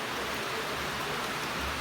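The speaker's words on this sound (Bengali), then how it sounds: "কারণ বৃষ্টি তো ঝরছে, এটা আষাঢ় মাস, বৃষ্টি হবেই।" Steady monsoon rain in the month of Asadh, a dense, even wash of falling water with no breaks and no voices.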